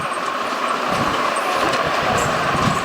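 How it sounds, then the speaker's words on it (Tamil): A train rumbles past at moderate distance near Nagore, a continuous rolling noise with faint squeals and clanks on top, no speech. "ட்ரெயின் நாகூர் பக்கத்தில் போகுது"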